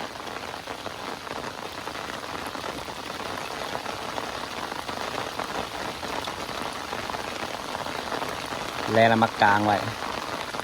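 Rain falls steadily on a surface at a riverbank during fishing, with a continuous close hiss, and a voice speaks briefly near the end.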